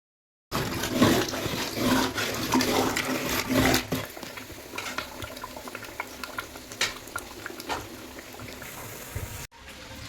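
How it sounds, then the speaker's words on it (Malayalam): Water boils in a large metal pot for cooking rice with green peas and rock salt, a steady bubbling roar with irregular pops and gurgles, loud at first and then softer. "ചോറിനുള്ള ചെമ്പ് വെള്ളം തിളച്ചുകൊണ്ടിരിക്കും"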